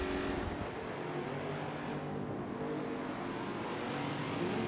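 Historic Trans Am race cars lapping Mugello in a sim racing game, a continuous broad engine drone at moderate level with no clear passes or talking.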